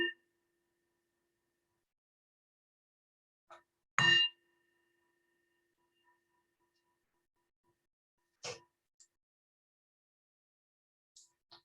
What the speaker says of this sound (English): with the fading of the sound of the bell